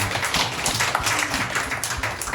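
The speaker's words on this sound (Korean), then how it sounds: "우리 하나님께 영광의 박수 올리겠습니다." A church congregation at a winter retreat applauds with dense, steady clapping that fills the space, lasting a couple of seconds without letting up.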